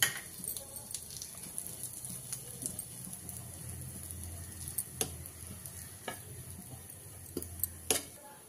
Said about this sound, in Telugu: తర్వాత కొబ్బరి తరుగు వేసుకొని ఫ్రై చేసుకోవాలి.